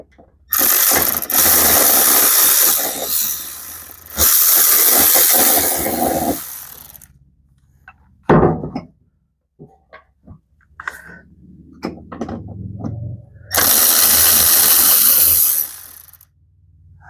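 A ratchet turns a deep socket on a John Deere fuel tank, clicking loudly in several sustained bursts separated by quiet pauses filled with small clunks and tool handling, with no one talking.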